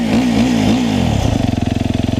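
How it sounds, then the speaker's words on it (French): An enduro motorcycle engine cranks over in a few rhythmic pulses, catches and settles into a loud, close, steadily throbbing idle, no talk. "Alors il faut tout d'abord démarrer votre moto"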